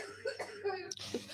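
A woman coughs in a short burst of several harsh coughs, close and fairly quiet.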